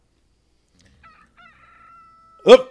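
In a zombie video game, a chicken lets out one short, loud squawk near the end, after near silence broken only by faint thin tones.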